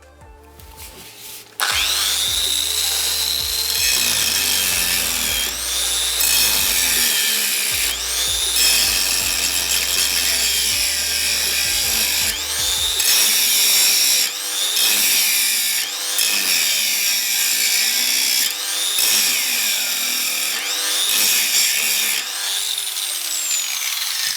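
A counterfeit DeWalt DWE4057 angle grinder whines loudly and steadily at high pitch at maximum speed, with brief dips as it bogs down under light load, running close and continuous.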